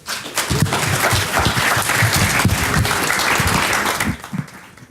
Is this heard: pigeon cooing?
no